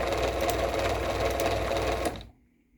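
Uncased Moore-O-Matic garage door opener, a half-horsepower 1000 RPM motor, running with a steady mechanical whir and rattle up close, then cutting off abruptly after about two seconds into quiet.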